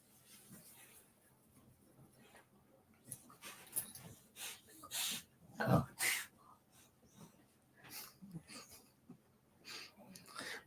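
A dog snorts several times in short, breathy bursts amid quiet indoor background noise, the loudest snort coming about halfway through.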